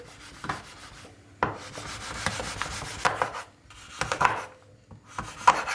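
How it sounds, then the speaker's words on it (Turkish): Knife cutting 100 grams of milk chocolate into pieces on a board, a series of close scraping, rubbing cuts with sharper snaps every second or so, no talking. "Çikolatayı kesiyorum."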